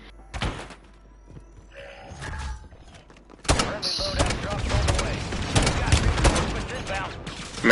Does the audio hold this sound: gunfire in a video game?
yes